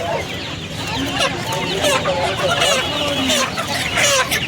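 Many farm chickens cluck and squawk continuously at close range at a poultry market in Uluberia, Howrah, with a busy crowd murmur mixed in.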